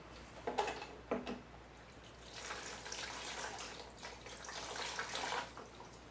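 Tap water runs and splashes softly while AR15 gun parts are rinsed after soaping, with a couple of clinks early on and then a steady, faint stream of water.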